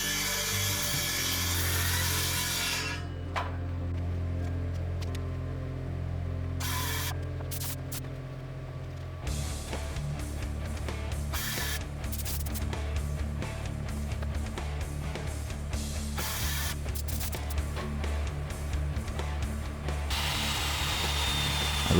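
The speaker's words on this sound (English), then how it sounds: "I ripped down a scrap piece of 1x2 to 3/4 inches to make cleats" A circular saw rips a scrap length of 1x2 down to 3/4 inch for closet shelf cleats, a loud steady whine that deepens and roughens under load, running almost continuously and up close.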